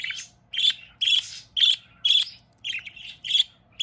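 A pet budgie chirps close up in a quick series of about eight sharp, bright calls, evenly spaced with short gaps between them and nobody speaking.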